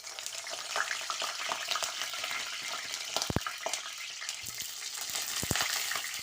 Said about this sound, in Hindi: तो अब मैं इसको फ्राई करती हूँ